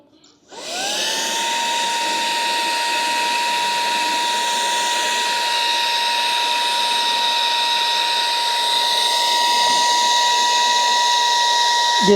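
Autofy Storm 3 portable vacuum cleaner, running in blow mode to inflate a swimming pool, spins up and holds a loud, steady high-pitched whine with a strong tonal hum for over ten seconds, close to the listener.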